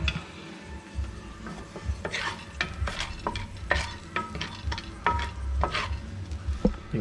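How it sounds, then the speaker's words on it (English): Pine nuts toasting in a hot pan with a spatula, giving repeated scraping and stirring strokes over a light, steady sizzle, close and fairly loud, with no talk. "we're just gonna toast a few pine nuts up"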